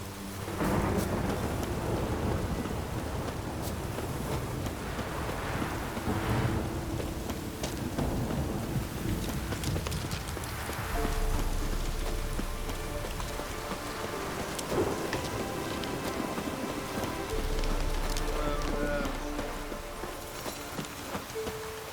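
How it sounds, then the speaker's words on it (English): A thunderstorm rolls through The Witcher 3: Wild Hunt, with steady heavy rain and deep rumbles of thunder swelling repeatedly, while a horse's hooves clop beneath the downpour. "A storm, damn it."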